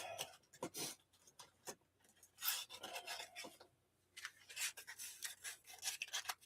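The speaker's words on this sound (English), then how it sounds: "Sanding." Sanding by hand, quiet dry rasping strokes in uneven bursts with brief pauses between them, close up and fairly faint, with no voices.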